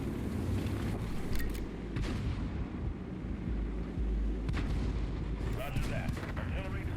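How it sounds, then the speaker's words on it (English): Artillery fire in the tank video game World of Tanks comes as several heavy booming shots spaced through a dense rumbling engine background, with a player's voice talking over it. "Artillery deployed and ready to fire."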